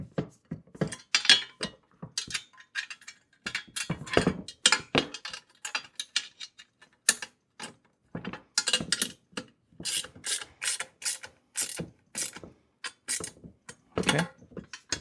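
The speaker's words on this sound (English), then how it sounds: "Just tighten it down pretty snug." Bolts being snugged down by hand on a heavy-duty four-wheel garden dump cart during assembly, with a string of short ratcheting clicks and metallic turning bursts in uneven bursts, close and fairly quiet, with no talking.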